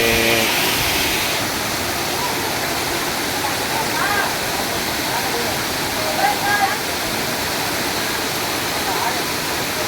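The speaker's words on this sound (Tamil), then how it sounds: "மேலே வந்து அருவி கொட்டுது." A waterfall pours down steadily as a broad, constant roar, close and loud throughout, at a family bathing spot; voices talk faintly beneath the water noise.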